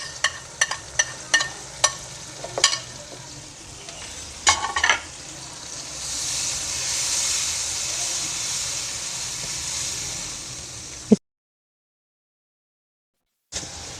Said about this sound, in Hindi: ये देखिए 5 मिनट हो गए, हम फ्राई कर रहे हैं इसे।